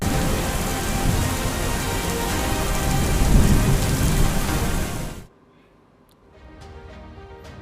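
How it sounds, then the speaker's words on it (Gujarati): Heavy, unbroken rain with rumbling thunder over Bhavnagar in the Bhal region. It is loud and dense for about five seconds, then cuts to near silence with a few faint drips and a soft return of rain. "પ્રારંભે પ્રચંડ વરસાદ અને આ અવિરત વરસાદ હજી પણ ચાલુ જ છે"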